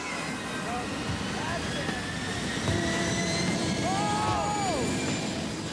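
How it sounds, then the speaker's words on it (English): A jet engine running at full throttle in an open field while blowing a car away, a loud, sustained roaring whoosh with steady high whine, voices faintly heard beneath. "the jet soon reaches full throttle, whereupon the car tumbles like a toy."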